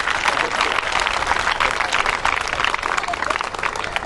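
A seated crowd of parents and students at a session applauds, a continuous, fairly loud wash of many hands clapping with no break, heard from within the room.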